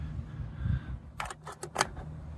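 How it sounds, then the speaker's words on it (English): A cigarette lighter in a 1959 Cadillac sedan pops out with a short cluster of sharp mechanical clicks, close and fairly crisp, after a brief low rumble. "All 4 cigarette lighters work. So you hear the one behind me go."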